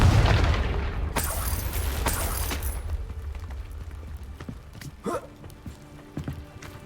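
A Confringo blasting spell bursts in Hogwarts Legacy, a loud booming explosion followed by a second sharp blast about a second later, then a rumbling tail that fades into quieter outdoor game ambience with scattered small clatters.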